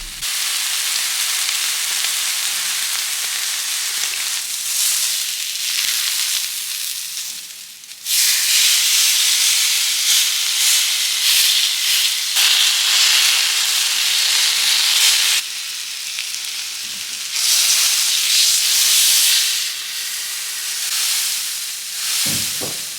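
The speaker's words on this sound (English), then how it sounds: "I moved the steak to the hottest part of the stove, which is the front top grate. and that really kicked it into gear." Steak sizzling on the hottest front top grate of a stove, a steady loud hiss and crackle of frying meat that keeps going with a few short dips, no talking.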